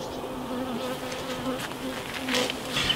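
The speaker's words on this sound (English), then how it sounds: "There's just a few bees left. There was thousands in here." Honey bees hum and buzz around hive boxes fitted with Porter bee escapes during an oilseed rape honey harvest, a low continuous drone with individual insects passing close now and then.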